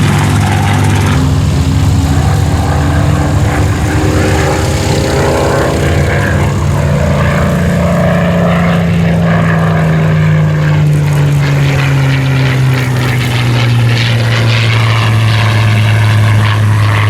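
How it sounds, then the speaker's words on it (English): A Merlin-engined Spitfire Mark 16 at a May evening airshow at Shuttleworth, its loud propeller engine droning steadily as the pitch slides down during a pass overhead, filling the whole stretch. "The Mark 16, the last Merlin Spitfire."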